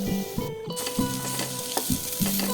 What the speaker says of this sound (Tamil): வெங்காயத்தோடு சேர்த்து இந்த பாவக்காயும் நல்லா வதக்கி விட்டுடலாம்